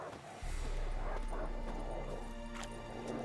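Dogs bark and yip at a kennel in The Witcher 3, several sharp barks and whimpers rising over a low, steady ambient hum at moderate distance.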